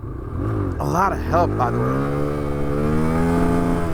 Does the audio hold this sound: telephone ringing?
no